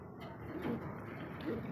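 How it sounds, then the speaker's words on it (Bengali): A baby pigeon coos softly in a few low, rounded pulses, fairly close and quiet, over a calm background. "বেবি কবুতর তো"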